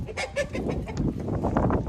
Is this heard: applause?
no